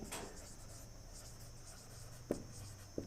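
A pen scratches across paper or a board while given data is noted down for a physics problem, with a few short strokes and taps that are faint and close against a quiet background.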